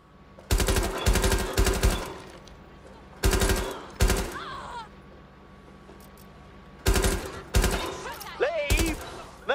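Gunfire in short controlled bursts in Watch Dogs Legion, several loud close rapid-fire volleys separated by brief pauses, with faint whistling and chirping game effects between them.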